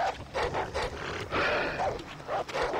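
Dogs bark in the Far Cry 3 video game, a run of sharp repeated yaps at moderate distance, with occasional game ambience and faint speech around them.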